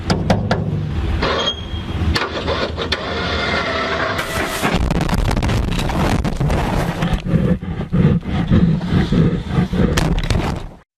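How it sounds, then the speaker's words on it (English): Loud, sustained grizzly bear roaring and growling, harsh and close, with rough breathy bursts that swell and rumble without pause. "you might wonder what it might sound like if you were attacked by a grizzly bear."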